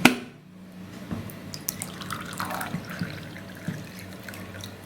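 Water is poured into a glass while making a water candle, a short gurgling trickle with light drips and clinks, close and fairly quiet.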